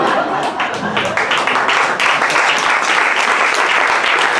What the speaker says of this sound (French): Je peux vous dire qu'il a applaudi lui-même la formule